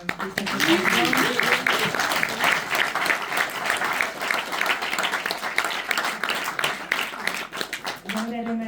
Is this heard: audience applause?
yes